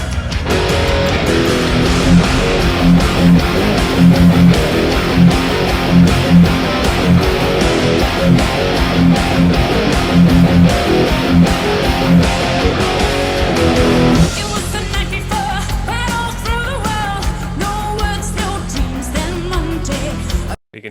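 A song in a live concert recording, dense full-band metal with a riff running low under prominent vocals, loud and continuous, then shifting to a thinner, brighter section near the end.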